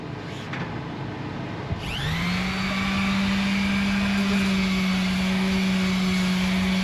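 Bondo body filler being sanded with sandpaper: a steady, close droning hum that swells in after a short rougher start, then holds evenly to the end.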